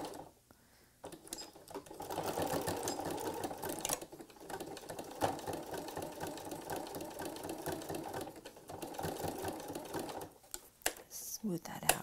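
Sewing machine running steadily for most of the stretch while stitching a cathedral window patriotic pillow, with a brief pause near the start and a short stop toward the end.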